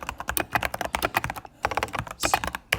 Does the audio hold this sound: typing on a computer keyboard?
yes